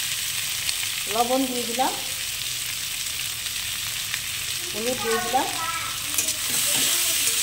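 Potatoes and onions sizzle steadily in hot oil in a pan with light stirring, a close continuous frying hiss while someone speaks briefly twice over it.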